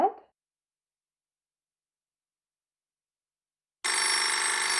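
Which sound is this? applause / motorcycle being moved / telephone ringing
telephone ringing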